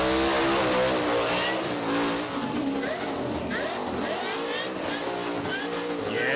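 A burnout car at the Summernats Burnout Masters, Burnout King round in Western Australia, revs loud and close with rising and falling engine wails, tire squeal and crowd noise throughout.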